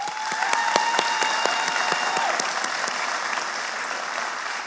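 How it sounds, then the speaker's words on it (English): A crowd applauds at a regional chamber of commerce annual meeting in 2022, with dense, sustained clapping that holds steady for about five seconds and then tapers slightly. "can we give April and Orly another round of applause"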